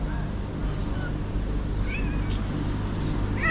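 Cats meow at breakfast time in a cat family's home, a few short mews rising over steady low background hum, fairly close.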